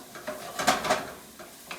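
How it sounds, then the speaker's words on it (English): Onions glazing in a pan for meatballs, a soft sizzle broken by a few stirring and scraping strokes, brief bursts close by with no voices. "Glazing the onions"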